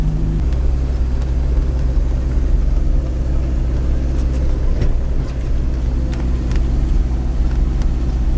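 A car rolls slowly along a country road, giving a steady low engine drone and tire rumble that stays even and fairly loud throughout, with no talking.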